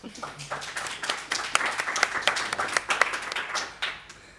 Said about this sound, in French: je vais vous demander d'applaudir notre magnifique invité